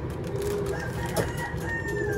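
Chickens and other birds call and cluck faintly in the background over steady ambient noise, with a rooster-like crow drawn out in the middle.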